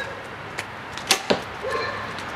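A 2012 Bowtech Insanity CPX compound bow releasing an arrow gives a quick, quiet snap followed by a second soft thump and very little lingering vibration, heard close over a steady background hiss.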